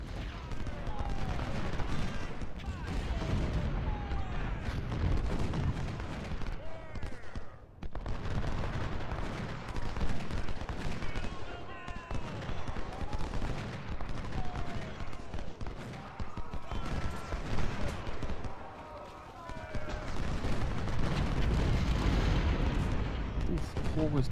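Musket volleys and artillery fire crackle and boom continuously in an Ultimate General Civil War battle at Antietam, dense overlapping shots and blasts filling the whole stretch with brief lulls, while someone talks over them.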